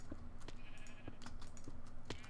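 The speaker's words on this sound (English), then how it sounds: "Oh look, we had a pink sheep summon." Pink sheep in a block-building survival game bleating in short, repeated calls over steady game ambience, close and fairly clear.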